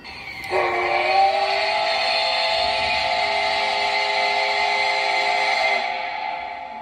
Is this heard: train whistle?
yes